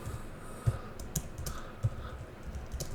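Fingers type on a computer keyboard in a quiet room, a few soft, irregular key clicks with sharper taps scattered across a faint background hum.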